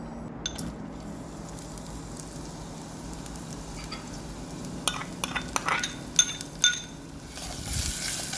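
Onions, ginger and nutmeg sautéing in hot oil give a steady soft sizzle, with a few sharp scrapes and clatters of a utensil against the pan near the end.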